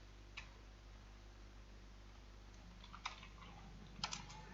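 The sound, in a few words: typing on computer keyboard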